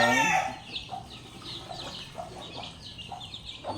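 Backyard chickens with newly hatched chicks, giving a loud squawk at the start followed by scattered soft clucks and thin peeping calls at moderate distance.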